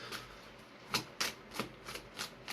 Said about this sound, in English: Going to be shuffling these for a couple of minutes just to make sure that they are ready for the collective.